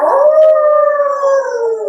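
A voice imitates a wolf howl during a children's yoga session, one sustained rising-then-falling 'ow' held close and loud for about two seconds.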